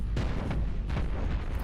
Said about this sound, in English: We just need to push a couple more rounds of ammo into it from these large cannons.